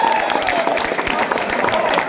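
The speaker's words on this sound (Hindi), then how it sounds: "तालियों से स्टार्टिंग होती है," At a school farewell party, the audience claps in a brisk, dense burst lasting a couple of seconds, while a voice carries on over the clapping.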